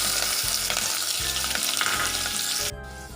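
Cumin seeds and chopped green chillies frying in hot oil, a loud close sizzle with bubbling crackle and a rhythmic low hum underneath, dropping off sharply near the end.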